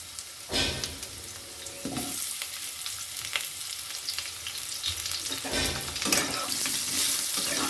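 Cut potatoes fry in a pan with dry red chillies, cumin, cinnamon, cardamom and cloves for Bengali dhokar dalna. A continuous close sizzle is broken by several sharp spatula scrapes and clatters against the pan.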